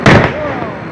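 A single loud firework blast bursts close by on New Year's, with a sharp onset and a ringing tail fading away over a second.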